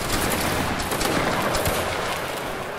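A musket volley fired by infantry in a Napoleonic Wars battle game, a dense crackling burst of many shots overlapping into a continuous loud roar of gunfire, with no voices.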